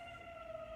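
Emergency vehicle sirens sound in a downtown area, a faint distant steady wail heard from indoors.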